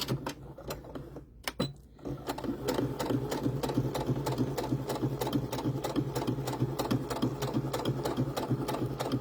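Sewing machine stitching doll hair, a brief pause and a few clicks, then a steady rapid mechanical chatter of stitches running continuously up close.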